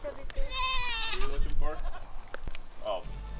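Goats trained for yoga bleat nearby, with several wavering cries in quick succession among some talking and handling noise.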